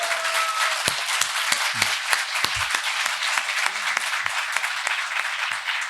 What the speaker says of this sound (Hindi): एक बार तालियों से बजाओ।